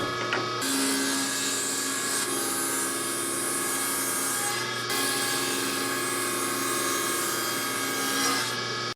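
A table saw rips boards lengthwise down the middle with a blade too shallow to cut through in one pass. A loud, steady whine and cutting roar runs continuously for the whole stretch, alone and close.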